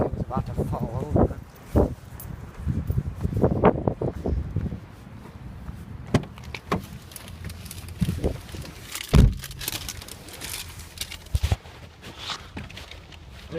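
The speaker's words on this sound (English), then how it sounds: "because of all the wind blowing. The trees are swaying." Gusty wind on a stormy January day, with trees swaying and rustling outdoors, heard as broad rushing bursts and scattered knocks, with talking over parts of it.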